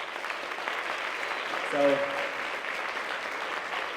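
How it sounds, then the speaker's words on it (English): Audience applause at a closing-night Sound of Music school theatre performance, a steady broadband wash of many hands clapping throughout, with a brief spoken word rising over it midway. "applause for Mrs. Kane, who's not here tonight"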